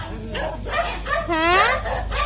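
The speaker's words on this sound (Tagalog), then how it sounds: "Yan, ang daming aso ni Tita Benos." Several dogs bark and whimper close by at a neighbour's place, sharp yips and whiny cries overlapping in quick bursts, with people talking among them.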